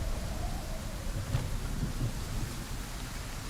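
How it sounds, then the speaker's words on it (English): Steady hiss of acid rain in the survival game Icarus, with a low, continuous thunder rumble and a brief sharper crack partway through, filling the scene without any voices. "this acid rain is going to eat us alive if we don't get into a cave"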